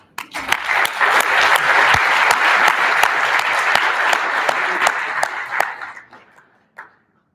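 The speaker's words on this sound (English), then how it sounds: "Please, a big round of applause" An audience at a company training session claps to welcome a speaker named Grant, a full, loud burst of applause with sharp individual claps standing out, swelling quickly, holding steady, then tapering off near the end with a last stray clap.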